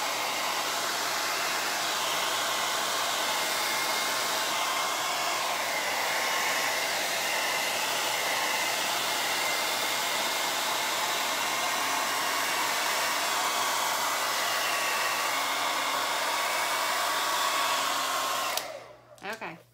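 A hair dryer blows steadily and loudly on poured acrylic paint on a fall leaf door hanger, a constant close whir that cuts off near the end.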